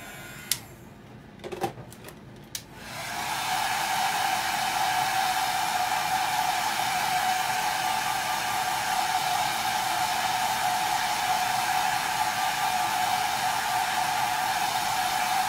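A hair dryer drying chalk paste starts after a few brief clicks, then runs as a steady, loud, continuous blowing drone for the rest of the stretch.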